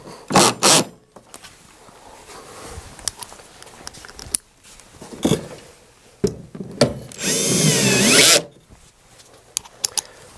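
A power tool drives bolts on a Phoenix DryMAX XL dehumidifier during a thermistor probe replacement, with short close bursts of whirring at the start and a longer loud run later, separated by clicks and handling clatter.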